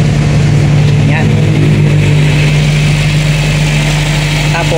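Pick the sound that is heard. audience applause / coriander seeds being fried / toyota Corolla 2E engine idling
toyota Corolla 2E engine idling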